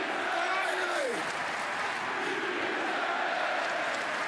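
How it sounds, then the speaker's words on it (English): Wrestling fans at an AEW event chant and applaud together in a big arena, a steady, loud wash of crowd noise with a voice talking over it. "There's crowd chant."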